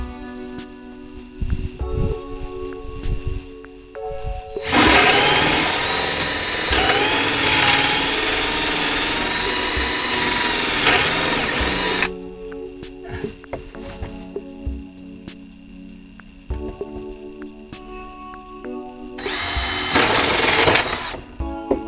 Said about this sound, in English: So I'm gonna take this hole saw and drill out the size of the hole